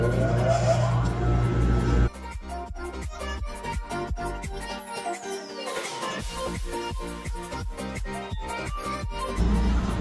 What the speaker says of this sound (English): So now we're here on the sewing machine and we are going to sew all of the lines in here